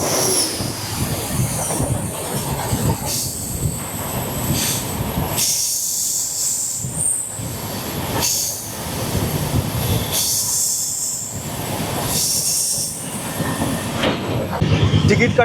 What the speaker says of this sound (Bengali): আর এই ট্রেনটা পাশ দিয়ে বেরিয়ে গেল।